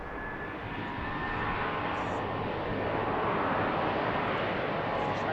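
Southwest airliner departing at BWI, a steady jet engine roar that builds slightly and then holds, moderately loud, with no talking.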